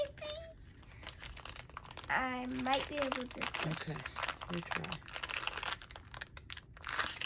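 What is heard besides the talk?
plastic packaging crinkling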